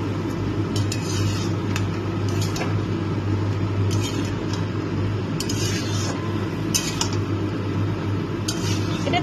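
Chopped banana stem (thor) with green chillies, salt, turmeric and a little sugar frying in a pan, with a steady sizzle under repeated scraping and clinks of a metal spatula against the pan, close and continuous, without talk.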